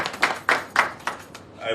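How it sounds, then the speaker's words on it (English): A few scattered claps at a credit union presentation honoring an employee, four or five distinct sharp hand claps spaced about a quarter second apart, moderately close, fading out. "I think we should give her a round of applause"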